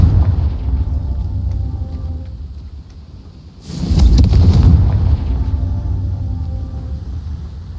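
A Confringo fire blast spell detonates in Hogwarts Legacy, a sudden loud burst with a crackling, rumbling tail lasting about a second and a half over steady game ambience.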